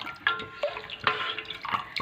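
Hot water poured from a glass into a pot of spicy Maharashtrian katachi amti for Dasara, heard as a few distinct splashing drips and trickles at close range, with no talking.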